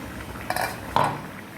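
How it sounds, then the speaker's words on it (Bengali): Metal lid lifted off a cooking pot of simmering bottle gourd, potato and bata fish curry, two short clinking clatters a half second apart, close and clear with no talk. "দেখুন 15 মিনিট পর আমি ঢাকনা খুলে দেখলাম"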